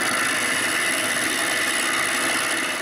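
Wood lathe spinning a cherry blank between centers, a steady close whirring motor hum with a rough, dense cutting texture throughout and no voices.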